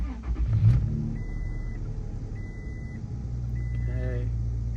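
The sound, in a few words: truck engine being started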